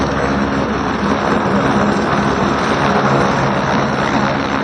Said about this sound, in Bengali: চোখের সামনে, হাতের সামনে হেলিকপ্টার। এই জিনিসটা দেখবো আমি জীবনেও ভাবি নাই ভাই, এত আওয়াজ।